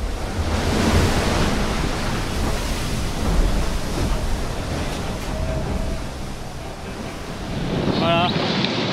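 Strong wind and breaking waves rush past a sailboat at a race start, a loud continuous roar of wind noise and surf throughout, with a brief higher whistle near the end.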